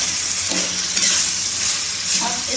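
Boiled chickpeas for Afghan-style chole are stirred into spices frying in a pan, giving a loud, continuous close sizzle with scraping movement throughout and no talking.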